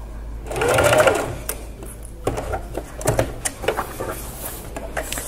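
A sewing machine stitching an apron, running in a steady burst of rapid mechanical whirring, then stopping and starting in short bursts with clicks and handling noises close by.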